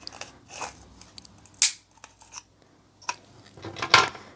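Several sharp, crisp snips of scissors cutting, irregular and close, separated by short quiet gaps with faint rustling.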